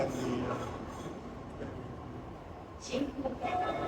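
A subway train arrives at a station platform in Japan, a steady low rumble of rolling cars that grows slightly louder toward the end, with brief squeals and a faint voice over it.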